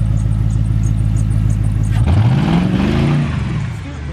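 A car engine idles with a low steady drone, then revs hard as the wheels spin with no traction, pitch sweeping upward and wavering; the sound may come from a video game.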